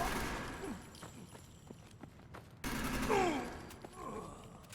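Gunfire in the video game Fallout 4, a burst of rapid shots with mechanical clatter, followed by a louder stretch of firing and effects, mid-distance and moderately loud.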